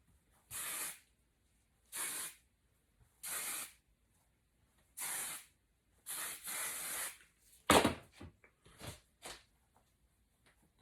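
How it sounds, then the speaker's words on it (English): Hairspray sprayed onto hair in close, separate bursts, about half a dozen hissing blasts each lasting around a second with short pauses between, then a few shorter rustling spurts. "I've only got hairspray with me tonight."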